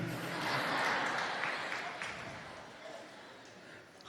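Audience applause at an afternoon sermon by Acharya Vidyasagar in Jabalpur, a dense, steady wash of clapping from a large gathering that peaks early and slowly thins, heard at moderate distance.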